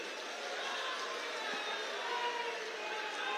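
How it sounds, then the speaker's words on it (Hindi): A large outdoor election rally crowd claps and murmurs in a steady, dense wash of applause and voices, held at an even level throughout without a clear peak. "तो फिर से एक बार ताली बजाकर सभी का जोर से सम्मान करिए"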